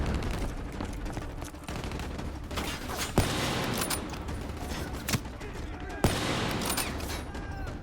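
Gunfire in the Call of Duty: Black Ops 3 campaign, steady dense battle noise with a few sharp, louder single shots standing out near the end.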